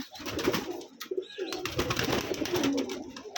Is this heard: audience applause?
no